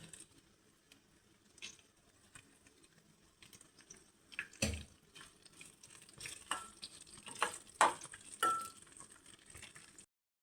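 Ginger, curry leaves, garlic and green chilli frying in oil for a prawn roast, with a soft, quiet sizzle broken by scattered stirring clatters and scrapes in the pan, no voices.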